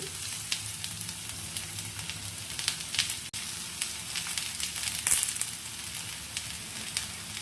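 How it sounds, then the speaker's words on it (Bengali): Okra fries in a pan with turmeric, salt and spices for methi bhindi, a steady dense sizzle with occasional stirring clicks, close and continuous without speech. "ভেন্ডিটাও ভাজা ভাজা হয়ে এসেছে।"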